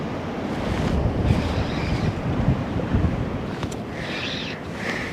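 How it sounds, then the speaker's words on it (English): Strong wind gusts buffet the microphone at a trout lake, with waves churning steadily, a continuous loud roar of wind and surf throughout. "It's so windy, it's sort of flying along the surface."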